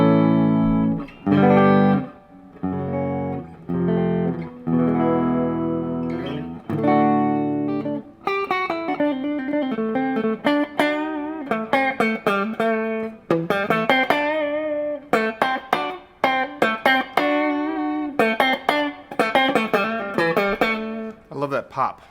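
Squier Stratocaster electric guitar with stock pickups played through a clean tone, no distortion: picked single notes and short chord phrases in a steady, lively rhythm, close and fairly loud, with no talking.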